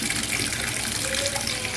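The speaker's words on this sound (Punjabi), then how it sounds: "ਸਾਡੇ ਪਾਣੀ ਛੱਡਿਆ ਹੁਣ ਮਸ਼ੀਨ ਦੇ ਵਿੱਚ" Water pours steadily into a washing machine during a morning laundry load, a loud continuous gushing wash heard up close with no pause.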